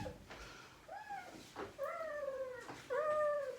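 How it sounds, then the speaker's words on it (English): A cat meows three or four times nearby, drawn-out and rising, with short pauses between each call. "That's my cat."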